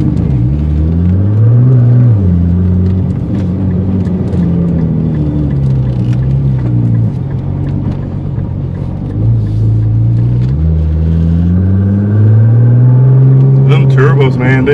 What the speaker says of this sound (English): Them turbos, man, they loud.